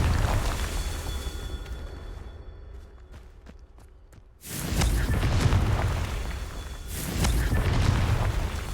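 Two booming Confringo fire-spell blasts in Hogwarts Legacy: after a quieter stretch of light ticking steps, a loud explosive burst erupts and rumbles on, and a second blast follows a couple of seconds later.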